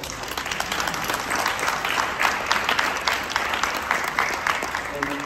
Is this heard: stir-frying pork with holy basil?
no